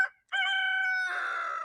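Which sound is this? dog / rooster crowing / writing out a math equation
rooster crowing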